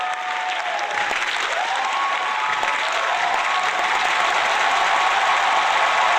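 A loud, dense applause sound effect from a large crowd claps continuously without a break, with a faint tone sounding underneath.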